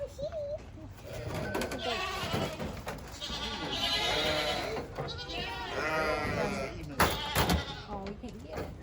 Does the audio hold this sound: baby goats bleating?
yes